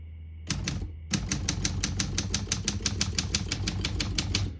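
Rapid, even keystrikes on a 1974 Olympia SM-9 portable typewriter, a steady run of close, crisp mechanical clacks after a brief opening burst and pause, with no voices.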